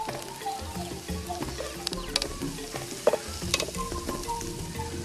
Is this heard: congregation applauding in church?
no